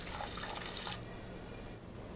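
Water splashes and trickles steadily over soaked split moong dal in a pan, pouring loudly for about a second before easing to a faint lingering drip and settle.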